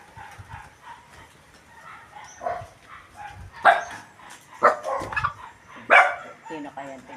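A dog barks in a few sharp, separate bursts close by in a rural outdoor setting, breaking through a low background murmur and scattered voices.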